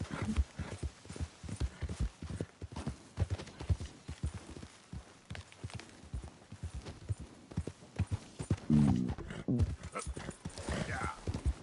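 Rhythmic hoofbeats of a horse in the video game Red Dead Redemption 2 clip-clop steadily at a gallop, with a brief whinny and faint voices in the background.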